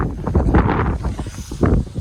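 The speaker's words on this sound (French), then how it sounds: "avec tout le vent vous entendez pas grand chose" Strong wind buffets the microphone on a rooftop, loud, gusty rumbling and rustling that rises and falls over a couple of seconds, with no voices.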